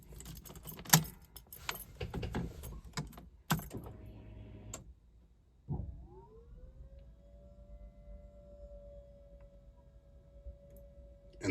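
Car keys jangle and click close by in the first seconds while a 1989 Ford Mustang with a Coyote swap is readied. A rising whine then follows and holds steady, without any talk.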